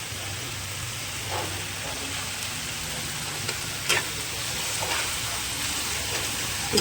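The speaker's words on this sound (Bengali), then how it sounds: "ভালো করে মশলাটাকে আমি এবার কষাতে থাকবো" Ginger garlic paste masala sizzles in a pan, a close, steady frying crackle with a few louder spits and stirring scrapes, heard alone.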